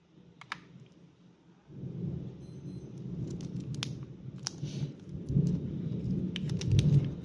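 Low thunder rumbles roll in under steady rainfall, swelling and fading over several seconds, with scattered sharp ticks and taps on top.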